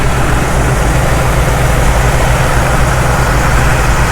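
A 1974 Chevrolet C10 engine idling with the radiator cap off while warming up, a loud steady low rumble close by, unbroken throughout.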